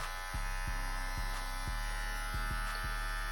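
Electric hair clippers run with a steady, loud mechanical buzz close by while being cleaned, with a few short knocks and rattles over the hum.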